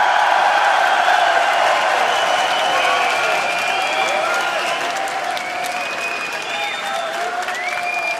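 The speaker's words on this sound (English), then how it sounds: "this is a pretty awesome crowd" A large crowd at a 2014 EU LCS esports match applauds and cheers, a dense, steady wall of clapping with scattered whoops rising over it. It stays loud and sustained for the whole stretch, with no talk standing out.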